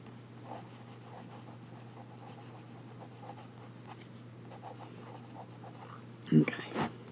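A vintage Sheaffer fountain pen with a fine nib scratches across paper in faint, steady strokes, with a couple of louder knocks or taps near the end and a low steady hum underneath.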